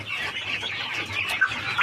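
Broody hen clucking softly and continuously in a steady low murmur, close and fairly quiet, with no talk.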